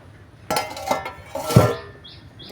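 A pan of fish curry with vegetables is stirred, giving a few close metallic scrapes and clinks of utensil against pan in short bursts.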